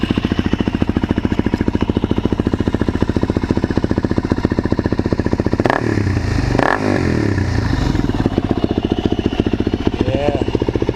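A 2006 Suzuki LT-Z400 ATV with a Yoshimura exhaust runs close by with a fast, even idle pulse, briefly blipped and revved in the middle, then settling back; a voice is heard near the end.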